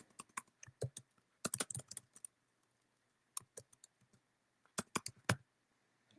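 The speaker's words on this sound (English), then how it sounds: "I can't type." Quick clacking keystrokes on a computer keyboard, close and crisp, coming in short irregular bursts separated by brief pauses, with no talking.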